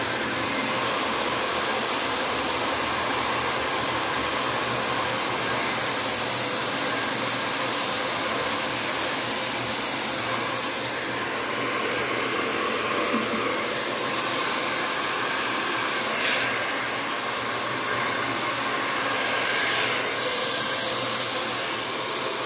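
A hair dryer blows steadily and close for the whole stretch, a constant loud whooshing rush while drying the front of someone's hair, with a few faint whistling shifts partway through.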